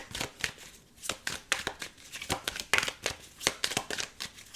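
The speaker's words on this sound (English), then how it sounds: "Just shuffling." Tarot cards being shuffled close up, a series of quick riffling bursts and soft slaps in an irregular rhythm, fairly quiet with pauses between shuffles.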